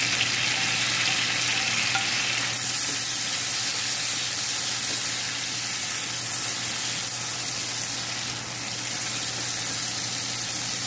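Tomato frying with minced chicken in a pan for a Turkish breakfast gives a loud, close, steady sizzle that carries on unbroken, with faint stirring and a low constant hum beneath, and no talking.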